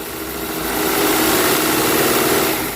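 A machine's electric motor runs at full speed after its drive belt has been adjusted, giving a steady, loud, continuous hum that builds slightly and holds even, with no voices.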